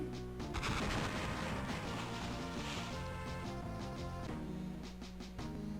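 Cannon fire from the Game Boy Battleship video game as a ship is sunk, a burst of loud, crunchy electronic explosion blasts with chiptune-style rattling, steady and close with no talking.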